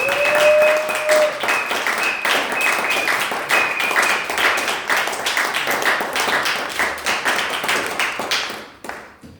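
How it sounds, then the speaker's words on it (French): A church congregation applauding, with dense, loud clapping that carries on steadily and then cuts off near the end, with no voices over it. "Est-ce qu'on peut acclamer pour le Seigneur?"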